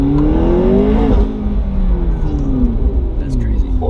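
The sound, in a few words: car engine revving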